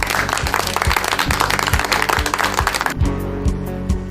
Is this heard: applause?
yes